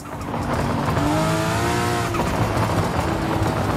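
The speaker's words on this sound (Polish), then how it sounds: "a z tyłu, z układu wydechowego mamy fantastyczne pierdy" An anti-lag turbo car in Forza Horizon 5 gives off loud engine noise with tire squeal and rapid crackling exhaust pops after the throttle lifts, heard close and continuous with no talking.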